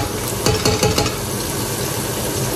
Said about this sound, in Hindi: प्याज़ को अच्छे से ब्राउन करना